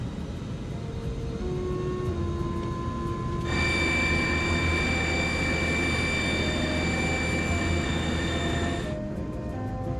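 Comair 191 airliner on its takeoff roll, heard as a steady loud engine roar that swells into a strong sustained whine with tonal layers, then eases back, with no speech.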